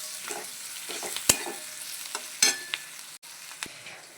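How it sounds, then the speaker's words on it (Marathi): Finely chopped garlic and onion sautéing in a pan for a spicy Marathi vegetable dish, a steady soft sizzle broken by sharp clinks and scrapes of a stirring spoon against the pan, with no talk. "मी बारीक केलेला लसूण आहे तो यामध्ये घातलेला आहे. आणि ते पण छान आपल्याला परतून घ्यायचं आहे इथे"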